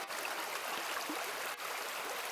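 Water trickles steadily from a Sawyer Squeeze filter into a bottle on the ground, a continuous close-up splashing stream with no voices.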